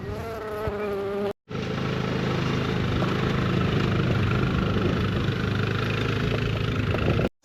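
Honey bees buzzing around a busy double-brood hive colony, a dense continuous drone of many wings close by, steady and unbroken, with a brief cut near the start and end.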